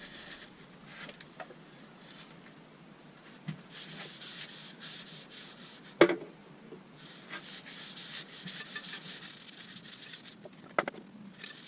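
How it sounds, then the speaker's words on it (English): Sanding sealer rubbed onto a spinning elm bowl on a woodturning lathe gives a steady, close, soft scratchy rubbing hiss, with a few sharper scuffs and knocks breaking through. "Time for a bit of sanding sealer."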